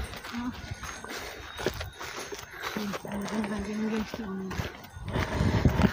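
Cows' hooves clop and shuffle on the ground among a herd, with low animal calls and people talking nearby over outdoor noise.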